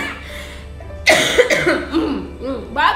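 A sudden close cough breaks in, followed by a few raspy coughs and throat sounds trailing off, loud and near.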